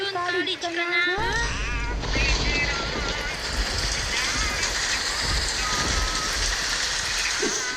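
Steady heavy rain pours down continuously, a dense hiss after a brief moment of talk at the start, with voices faintly mixed in.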